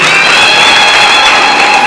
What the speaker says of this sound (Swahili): Pigia huyu mtoto makofi